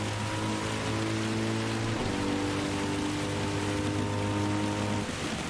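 Steady rain hiss pours over a wet race in Gran Turismo 7, a Mercedes engine droning beneath it as cars battle through a tricky corner, the downpour continuous and close throughout.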